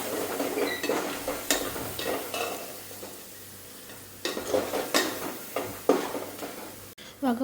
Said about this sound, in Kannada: ಮಸಾಲೆ ಪುಡಿ ಹಾಕ್ಕೊಂಡು ಒಂದೆರಡು ನಿಮಿಷ ಹುರ್ಕೋಬೇಕು